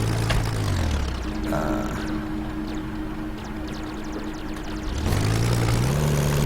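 Propeller aircraft engine from the video game Steambirds Alliance drones steadily and loudly throughout, with a brief shift in pitch partway through and no talk over it.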